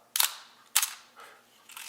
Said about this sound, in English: 1/15 of a second sounds like clop, clop